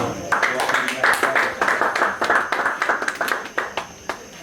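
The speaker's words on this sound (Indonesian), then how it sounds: "Berikan tepuk tangan dong." A small audience at a digital literacy workshop claps in a short burst, the individual claps distinct and uneven, fading after a few seconds.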